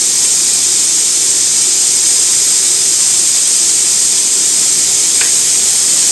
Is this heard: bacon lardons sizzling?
yes